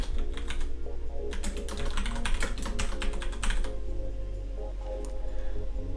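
Typing on a computer keyboard while entering a device type name in power management software, a fast run of clicking keystrokes in bursts over a steady low hum, close and clear with no talking.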